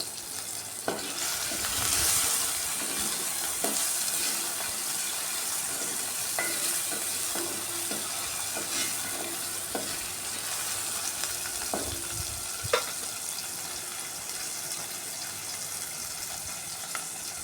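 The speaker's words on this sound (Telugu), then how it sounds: "ఈ ఆయిల్లో బాగా మగ్గనివ్వాలండి బాగా ఫ్రై అవ్వాలి ఉల్లి ఉల్లిపాయ పచ్చిమిర్చి" Chopped onion and green chillies fry in hot oil in a pan, a steady bright sizzle with intermittent scraping clicks of a stirring spoon against the metal.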